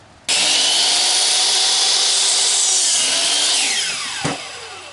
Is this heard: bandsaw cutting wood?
yes